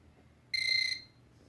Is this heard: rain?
no